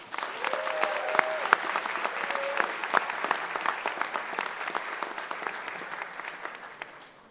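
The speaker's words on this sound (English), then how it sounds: "let's recognize our graduates for all of their hard work with a round of applause" Sustained applause from an audience at a university engineering graduation ceremony, steady clapping that fades toward the end, with a few faint voices underneath.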